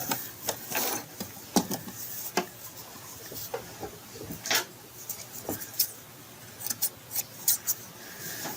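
Scissors trim loose thread from a log cabin quilt block after stitching, with a run of sharp, close snips and clicks at an uneven rhythm against a quiet room.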